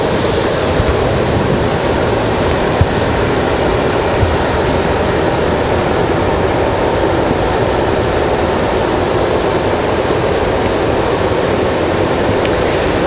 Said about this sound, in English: So as you can see, breeze on the move here.